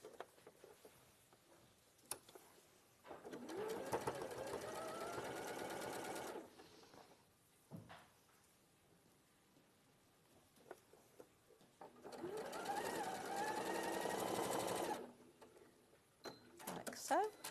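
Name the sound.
sewing machine stitching fabric pieces together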